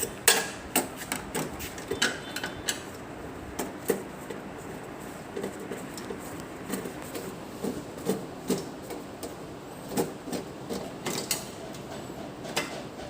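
A screw-mounted compressor capacitor is taken off an air-conditioner unit, with steady close clicks, light metallic taps and ratcheting tool sounds recurring every half second or so.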